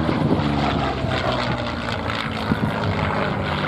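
At an air show at Biggin Hill, a WWII fighter plane with an Allison liquid-cooled 1,150-horsepower V12 engine flies by with a loud, steady, throaty propeller drone that stays close throughout.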